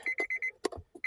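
An automotive scan tool plugged into a Honda's OBD port beeps in a quick rapid series of short pulses, close and fairly quiet, followed by a few clicks and handling noises.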